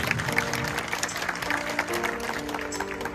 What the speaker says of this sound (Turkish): onlar için de güzel bir güçlü alkış istiyorum efendim